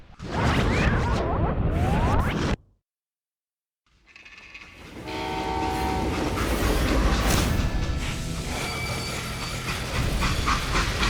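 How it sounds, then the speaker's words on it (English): A train rumbles loudly, then cuts to brief silence, then a heavy freight train in Call of Juarez: Gunslinger rolls on with steady clattering wheels and metallic squeals close by. "They hopped a freight train"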